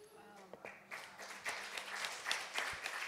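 Congregation applauding during a Sunday church service, a swelling wash of many hands clapping that builds after a quiet start and stays steady.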